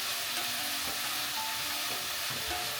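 Onions with a pinch of salt sizzle steadily in a pan over brisk medium-high heat, a dense continuous frying hiss with faint stirring scrapes, no voices.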